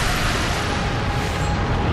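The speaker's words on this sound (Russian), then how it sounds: "А, взрыв" A loud, dense rumbling explosion in Bloodborne, roaring continuously for a couple of seconds with no talk.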